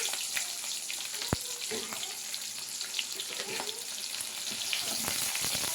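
Sliced onions and green chilies sauté in hot oil for a ladies finger tamarind curry, making a constant bright sizzle with light stirring clatter. There is one sharp knock near the start.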